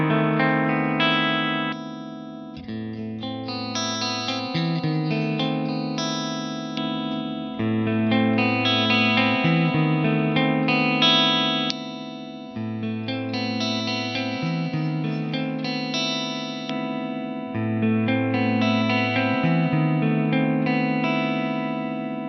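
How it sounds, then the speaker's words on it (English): A metal electric guitar with powerful pickups plays clean tones: ringing, sustained chords and arpeggiated notes with a chorus-like shimmer and reverb, repeating in phrases of a few seconds, alone and fairly loud. "These pickups, they are powerful, but still really clear, but you can hear them in the clean tones example."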